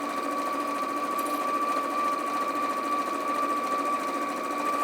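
A sewing machine runs continuously while stitching fabric strips, giving a steady, fast mechanical hum with a rapid needle patter, close and uninterrupted, with no talk.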